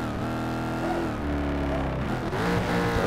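A race car in Need for Speed Shift 2 runs across sand, its engine roaring loud and close with steady revving and a rising pitch near the end, with no talk over it.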